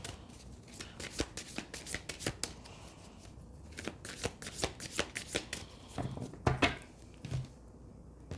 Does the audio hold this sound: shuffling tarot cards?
yes